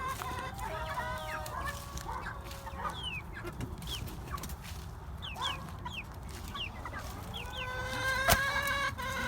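Chickens clucking around a backyard coop, a mix of meat birds, Brahmas and a silver laced hen, with steady overlapping clucks and chirps, occasional brief calls, and a low wind-like background rumble throughout.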